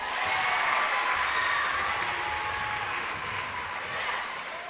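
Basketball crowd at a girls' sectional championship game, with the student cheer block singing and cheering together, a dense, loud, sustained roar of voices that slowly eases.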